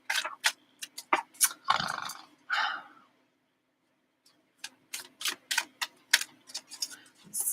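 A Celtic Dragon tarot deck being shuffled gives rapid bursts of crisp card clicks and riffles, close by, with a short pause in the middle.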